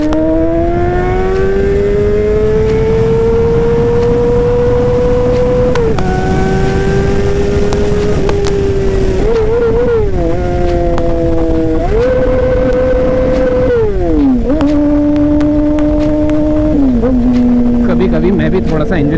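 Honda CBR 600RR motorcycle engine revving loudly while riding, a steady droning tone rising and stepping between gears with throttle changes throughout, close and continuous.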